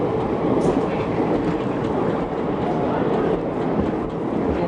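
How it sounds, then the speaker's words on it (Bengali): A passenger train pulls into platform four at Chennai Central station, giving a steady, close rumble of wheels and carriages that fills the whole stretch, with faint voices beneath it. "তো ট্রেন ঢুকছে চেন্নাই স্টেশনের চার নম্বর প্ল্যাটফর্মে"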